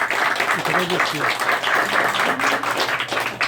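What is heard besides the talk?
audience applause for an author at a book launch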